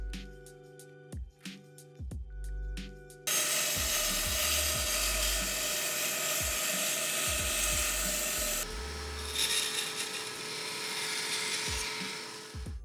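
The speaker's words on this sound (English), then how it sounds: "using my sad little bandsaw, I'll cut out a rebate that will accept my longer side pieces" A small bandsaw cuts a rebate in a wooden cabinet part: a few sharp knocks and taps first, then a loud, steady buzzing cut for about five seconds, followed by a slightly lower running drone.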